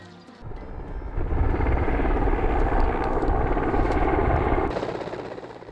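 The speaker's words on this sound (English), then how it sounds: "the helicopter from the Royal Nepal Army finally arrives" A Royal Nepal Army helicopter approaches in the Everest region, its rotor chop building to a loud, steady roar that lingers before easing slightly.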